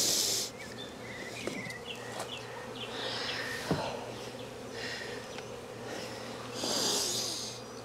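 Honeybees from an opened hive drone steadily close by, a dense buzzing swarm that swells and fades as they fly around, with a low steady hum underneath and a brief knock partway through.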